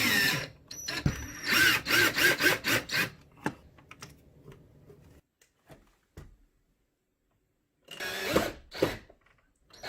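A power drill drives screws into wood to mount window blind brackets, several short whirring bursts early on, a pause with faint handling, then another burst near the end, close and fairly loud.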